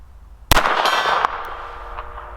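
A single sharp metallic clang as a .25 ACP pistol round strikes a steel gong outdoors, ringing out briefly with a short decaying tail and a faint second tap afterward.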